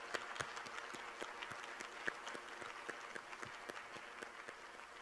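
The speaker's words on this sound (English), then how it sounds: "They deserve a big applause too." Applause from an audience at a Faculty of Architecture & Planning convocation ceremony, a steady crowd of many hands clapping continuously at moderate distance with no pauses.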